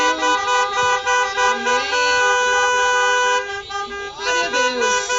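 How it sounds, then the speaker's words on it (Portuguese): Many car horns blare together, overlapping and sustained at a drive-in church gathering, and a voice speaks briefly amid the honking. "Quem pode buzinar aí, gente?"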